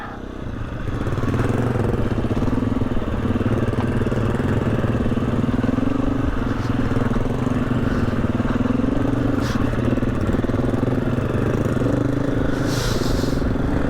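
Dirt bike engine chugging at low revs down a steep, rough trail, a steady close rumble with rattles and scrapes from the bumpy ground.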